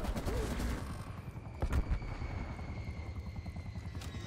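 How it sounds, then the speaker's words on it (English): A hostile aircraft strafe run in Black Ops Cold War: a dense, loud roar of engine rumble with rapid bursts of gunfire and a sharper impact near the middle, continuous throughout. "Hostile strafe run inbound."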